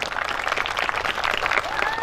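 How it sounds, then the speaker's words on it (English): An audience at a Hmong community event applauds Senator Foung Hawj. The clapping is brisk and dense, with faint voices mixed in. "Let's give a big round of applause to Senator Foung Hawj."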